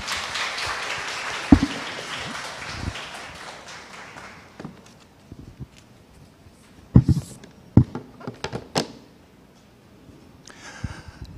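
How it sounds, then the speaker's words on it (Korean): An audience at a science-fiction lecture event applauds to welcome the speaker. Dense clapping fills the first few seconds and fades away, followed by scattered taps and small handling knocks in a quiet room. "이명현 박사님 큰 박수로 맞아주시기 바랍니다"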